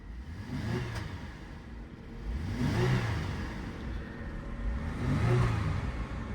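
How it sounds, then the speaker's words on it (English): A flooded Cadillac STS engine runs with the hood open, steady idle rumble swelling in two or three revs that rise and fall over several seconds, close and fairly loud with no talking. "I'm gonna pop that hood, listen to that engine"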